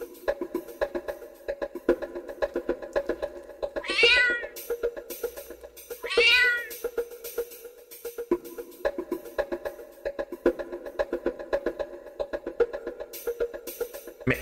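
A cat in a Stray-like video game meows twice, short rising-falling cries a couple of seconds apart, over steady busy game sound.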